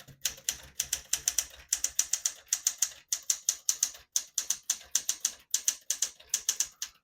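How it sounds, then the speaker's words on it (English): A 1975 Smith-Corona Galaxie 12 portable manual typewriter types at a steady pace, crisp close keystrikes landing in quick rhythmic bursts with short pauses, each key striking through the ribbon with a metallic clack, no voices. "Beautiful typing machine."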